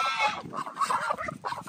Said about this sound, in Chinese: 看见一只大鹅在里面